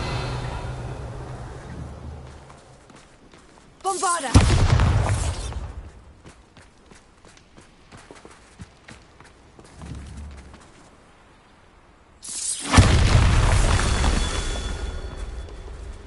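A Bombarda spell explodes in the Hogwarts Legacy video game, two loud bursts with a rumbling tail, the first around four seconds and the second near twelve, each fading into quieter footsteps and ambience.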